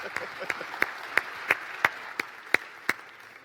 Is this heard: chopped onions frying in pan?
no